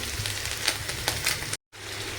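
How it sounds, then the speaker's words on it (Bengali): Fish fries in a pan with a dense, loud, continuous sizzle and light spattering close by, cut by a brief moment of silence near the end before the sizzle resumes. "এদিকে মাছটা ভাজা দিয়েছি মাছটা একটু ভাজা হবে লাল লাল করে"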